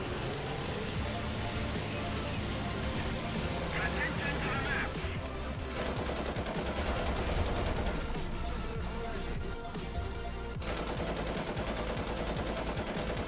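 Gunfire in War Thunder, a fast stream of loud shots and bursts running almost the whole time, dense and close, with a brief lull midway and a voice talking over it.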